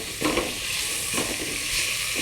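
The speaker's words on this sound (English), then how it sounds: "add ginger garlic paste to it and fry it" Ginger garlic paste fries in a pan for dalcha with a steady close sizzle, broken by several scraping stirs of a spoon.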